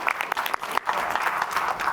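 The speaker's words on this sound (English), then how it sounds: "I think you get a round of applause." A short round of applause at a school board of education meeting, with several people clapping close by in a brisk, uneven patter for about two seconds.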